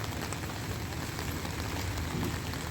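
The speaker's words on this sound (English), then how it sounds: "It's raining." Rain falls steadily outdoors on a very wet day, a dense even patter with no voices.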